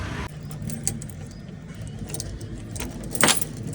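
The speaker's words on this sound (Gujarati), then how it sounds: "તો દુકાનને મારી દીધું તાળું" Keys jangle as a shop's padlock is locked outdoors, with a brief clatter and a sharp metallic click near the end, while a car and birds sound faintly in the background.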